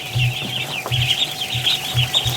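Soft, repeated clucking and low chirping calls from Muscovy ducks close by, several short bursts in an uneven rhythm over a steady background hiss.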